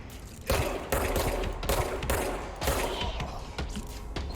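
Rapid automatic gunfire from the video game Control, sustained bursts fired near and loud, with brief pauses between volleys.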